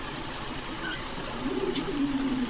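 At a pigeon farm in Bogura, newly matured pigeons make a low, soft cooing that swells in the second half over a quiet room hum, fairly close, with no talking.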